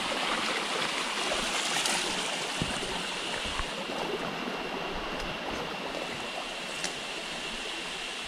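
A forest stream running over rocks makes a continuous, even rush of water with a bright babbling texture, steady and fairly close throughout, with no voices.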